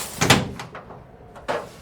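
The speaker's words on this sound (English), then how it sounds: "help me with the cockpit door." The cockpit door of a crashed Lancaster bomber is forced open, a close scraping thud followed by fainter rattles and a second knock near the end, with no talking.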